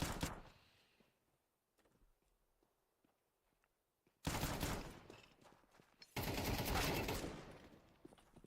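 Counter-Strike 2 rifle sprays in a tournament match, two loud sustained automatic bursts after a quiet stretch of faint ticks and footsteps, no talk.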